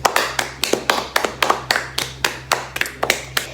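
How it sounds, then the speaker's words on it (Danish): A single pair of hands claps in a steady, even rhythm at an 80s party, about a dozen sharp, close claps with no crowd audible. "Skal vi ikke tage en klapsalme for det?"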